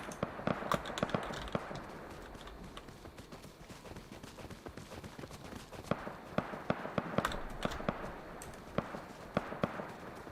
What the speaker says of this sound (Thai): ตามเสียงปืนเลยอะ